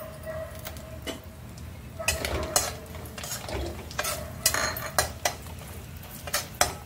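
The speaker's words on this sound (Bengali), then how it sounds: "আমি কয়েকটা বিউলির ডালের বড়ি নিয়েছি, এবার এই বড়িগুলো আমি ভেজে নেব।" Biuli dal bori frying in hot oil in a pan, a steady sizzle broken by repeated clinks and scrapes of a spatula stirring against the metal.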